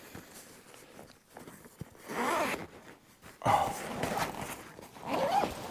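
A zipper on a camera bag is pulled open in a few rasping bursts, close and moderately loud, with handling rustles of the bag between strokes.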